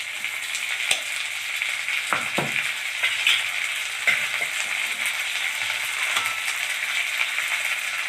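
Ginger-garlic paste sizzles steadily in hot oil in a pan, with a few sharp clicks and spatula scrapes over the constant frying hiss; no one speaks.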